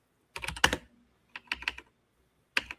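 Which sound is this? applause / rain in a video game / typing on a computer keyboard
typing on a computer keyboard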